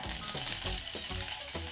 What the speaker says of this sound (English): Now it's time to saute some onions.